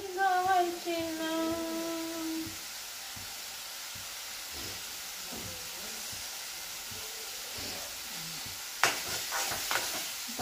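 Surmai fish fries in a pan over a low gas flame, giving a steady soft hiss with faint crackles, a short tonal whine at the start and a brief clatter near the end.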